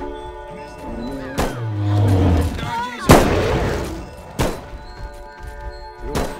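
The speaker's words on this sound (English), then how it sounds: "Use the shotgun, Jason!" Booming shotgun blasts in a first-person shooter game, several loud separate shots spaced a second or two apart, with voices and game sounds between them.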